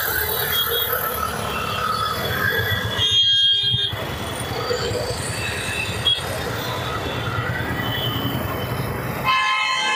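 Continuous loud street traffic noise with horns blaring and layered together, a steady roar with a brief dip partway through.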